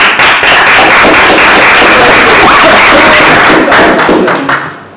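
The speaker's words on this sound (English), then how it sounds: "Loud applause for Nas." Loud, close applause from an audience at a speaking club meeting as the evaluator is called up, dense overlapping claps that carry on steadily and then taper off at the end.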